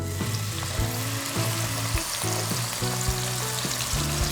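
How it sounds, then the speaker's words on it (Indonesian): Ground spice paste sautés in hot oil with a strong, continuous sizzle. Steady melodic background music plays underneath the whole time. "Saya tumis bumbu yang sudah dihaluskan, boleh diulek, boleh di food processor"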